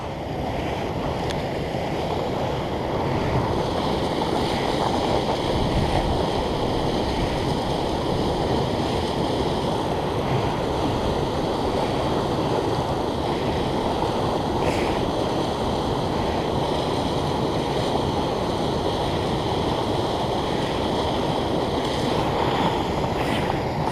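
Rushing river rapids near a swimming hole, a loud, steady broadband roar of churning water with some wind buffeting the microphone, continuous throughout without voices.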